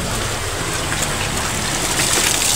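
Steady rain falling outdoors as a dense, continuous hiss and patter that stays loud and even throughout, with no voices.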